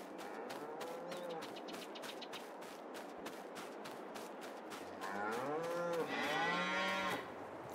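Cattle mooing on a farm in Farming Simulator 22: repeated drawn-out moos over a steady ticking background, with several overlapping louder calls near the end and no talk.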